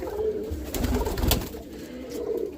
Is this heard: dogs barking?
no